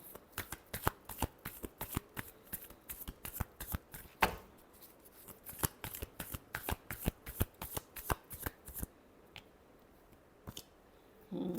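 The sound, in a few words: shuffling tarot cards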